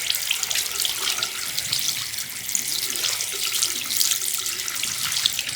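A faucet runs steadily into a sink as a vape tank's glass and drip tip are rinsed, a continuous bright hiss of water with no talking.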